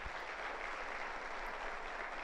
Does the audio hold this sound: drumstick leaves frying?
no